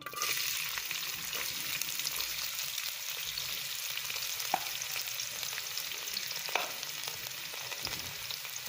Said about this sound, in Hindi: प्याज को बस हल्का सा सौटे करेंगे।